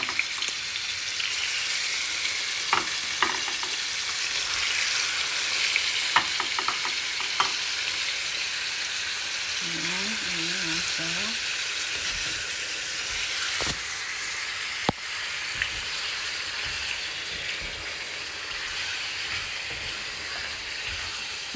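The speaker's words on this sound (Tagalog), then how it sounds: "Ilagay ko na yung karne." Beef steaks fry in a pan with a steady, loud sizzle that runs throughout, broken by a few scraping stirs and clinks of utensils.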